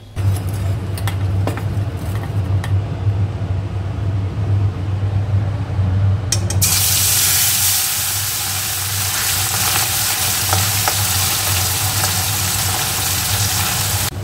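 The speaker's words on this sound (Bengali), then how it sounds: "সর্ষে তেলের মধ্যে কালো জিরে আর রসুন ফোড়ন দিয়ে আলুগুলো ভাজছি।" Potatoes fry in mustard oil tempered with nigella seeds and garlic, a steady loud sizzle running throughout, with a sudden rise to a brighter, hissier crackle about halfway through, over a low hum.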